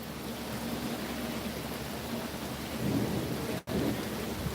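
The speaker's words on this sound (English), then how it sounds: "can hear some rumbling going on still, but I do love a good storm" Steady thunderstorm in Cuba, with continuous heavy rain and low rumbling thunder rolling underneath, swelling slightly near the end before a brief dropout.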